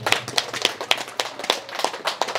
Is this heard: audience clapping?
yes